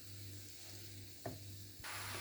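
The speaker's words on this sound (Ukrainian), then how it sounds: "І продовжую далі смажити на середньому вогні під кришечкою." Soft, steady sizzling of zucchini frying in a covered pan over medium heat, with a brief clatter partway through and a brighter hiss toward the end.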